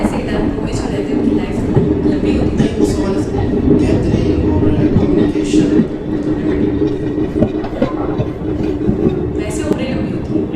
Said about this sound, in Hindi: ऊपर ट्रेन निकल रही है ब्रिज से